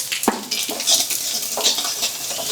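Cumin, dried chilli and asafoetida fry in hot oil, giving a loud close sizzle and hiss broken by scraping stirs of a spoon against the pan, with no voices.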